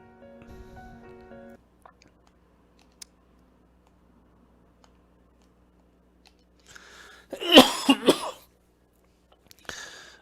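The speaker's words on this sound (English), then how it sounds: "I am starting to cough, so I think I'll take a break." A person coughs a few times in a rough, close burst after long quiet stretches, followed by a shorter throat-clearing sound, with faint clicks and a brief tonal hum at the start.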